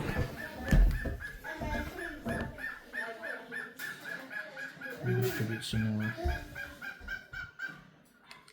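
A bird honks repeatedly with goose-like calls, mixed with clattering activity and a voice speaking briefly in the background.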